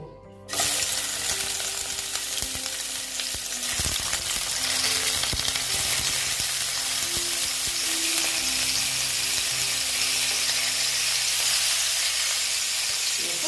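Fish frying in a pan for a koi fish curry, a loud continuous sizzle and hiss that starts abruptly and holds steady, with occasional clinks and spatters and no talking.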